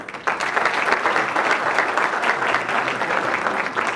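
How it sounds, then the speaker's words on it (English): Warm applause at a hotel owners' convention education session starts abruptly and continues steadily, a dense, even clapping from a sizable audience sustained for a few seconds. "Thank you for the warm applause"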